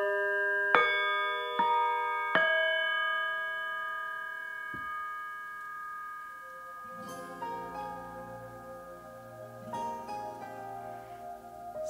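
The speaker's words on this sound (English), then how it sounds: "And so I start by ringing the Tibetan bowls." Tibetan singing bowls struck three times in quick succession, each strike leaving bright, shimmering tones that ring on and overlap. A richer, layered wash of ringing swells up later and sustains to the end.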